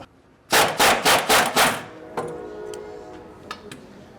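A rapid burst of about five loud impact-wrench rattles drives a 13/16 socket on the bumper support strap nut of a Chevy/GMC 2500/3500 truck, followed by a few light metallic clicks and clinks.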